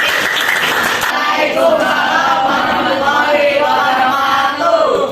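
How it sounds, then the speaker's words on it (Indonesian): Group 2 gets applause from a classroom audience, a steady patter of many hands clapping with excited voices and chatter mixed in throughout. "Tepuk tangan untuk kelompok 2"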